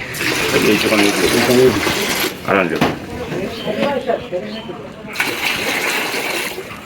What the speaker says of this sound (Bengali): এটা ছানার পানি ঢালতেছে।